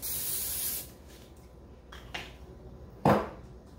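Cooking spray hisses from a can into the bottom and sides of a crock pot in a short burst, followed by a couple of faint thuds and a brief, sharper spray near the end.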